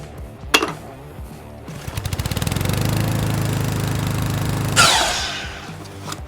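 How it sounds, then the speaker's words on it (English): A miter saw spins up with a rising whine, cuts through a piece of wood trim in a loud, sustained rasp of a few seconds, then winds down, close by and with no voices. "Cut that at your miter box."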